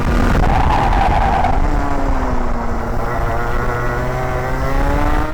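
A go-kart engine races around a track with a steady, loud drone, its pitch rising and falling gently through corners, close and continuous without talk.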